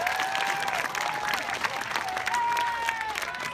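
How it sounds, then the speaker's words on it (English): School students applaud themselves at a LearnStorm challenge visit, a sustained crowd clapping with scattered cheers and whistles, voices mixed in throughout. "So y'all give yourself a round of applause."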